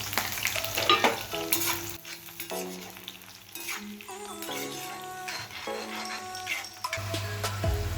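Bay leaf, chilli and onion hit hot oil in a kerahi, crackling and sizzling steadily with a few scrapes and clinks of a spoon stirring the pan, close and fairly quiet.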